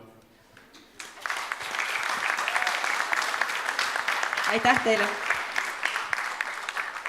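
An audience applauds teachers at the Elva Gymnasium school Christmas party, a steady burst of clapping that starts suddenly after a quiet moment and continues, with a voice speaking briefly over it.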